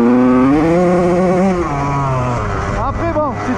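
A 2001 Honda CR125 two-stroke motocross bike's engine runs close by at low revs. Its pitch rises and falls in a few blips, with a brief sharper rev near the end.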